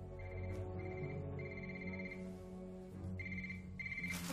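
A cell phone text message alert beeps in repeated short tonal pulses at moderate distance, sounding over a low, droning background hum.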